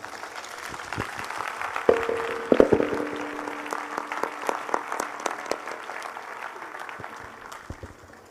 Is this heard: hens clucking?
no